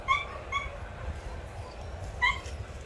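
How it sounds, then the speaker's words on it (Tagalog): Dogs give short high yips and whimpers at a vegetable garden in the Philippines, a couple of quick bursts near the start and another near the end, over a low outdoor rumble. "yung mga aso."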